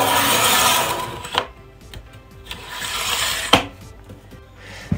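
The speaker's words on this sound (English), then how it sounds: "trim these down so they all become exactly the same size" Photo book pages trimmed to size with a paper trimmer, a long scraping cut followed by a few sharp clacks and rubbing handling noises, close and fairly loud, with no talking.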